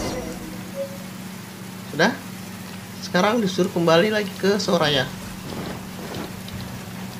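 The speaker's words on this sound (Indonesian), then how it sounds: "Paling demen gua kalau Genshin hujan." Rain falling in Genshin Impact, a steady soft hiss of rainfall running throughout beneath someone speaking in the middle.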